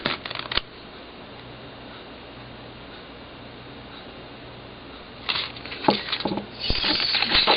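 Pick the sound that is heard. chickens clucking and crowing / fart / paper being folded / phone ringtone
paper being folded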